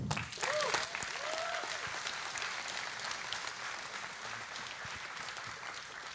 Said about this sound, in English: Big applause for Tom.